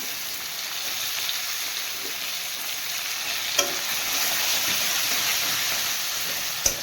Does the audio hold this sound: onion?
yes